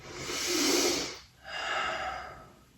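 During a yoga stretch, a slow, deep breath is drawn in and then released, two long airy whooshes heard close and alone.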